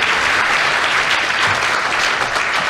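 Loud, dense applause fills a radio panel-game studio, a broad steady wash of many hands clapping at once with no voices standing out.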